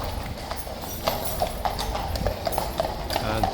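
Several horses clip-clop past at Horse Guards in London, a steady run of distinct hoof strikes on hard ground over a constant outdoor background hum.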